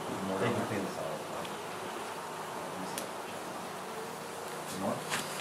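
Bees from a colony inside a wooden pillar hum steadily during a cutout, a continuous close drone with faint voices in the background.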